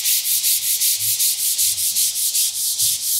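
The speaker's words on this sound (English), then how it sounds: "sand the surface and smooth it down" Rapid, steady rubbing strokes of a 4000-grit sanding pad on worn sofa leather, a rhythmic hissing scrape repeating several times a second with no voices.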